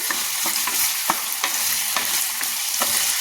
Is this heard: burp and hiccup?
no